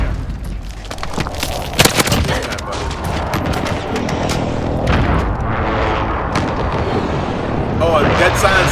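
An allied precision airstrike in Call of Duty sets off deep booms and blasts that roll together in a dense, loud rumble, with scattered gunfire and brief speech mixed in.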